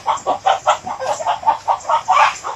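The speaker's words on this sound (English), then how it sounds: "oh, poor chicken." A chicken clucks in rapid, evenly spaced bursts, close and loud, with no voices.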